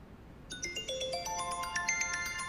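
A mobile phone ringtone plays a bright rising electronic melody, quite near and steady, in an otherwise quiet room with no talking.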